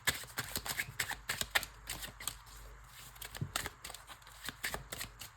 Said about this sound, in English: Can we get one more card from this deck, Spirit?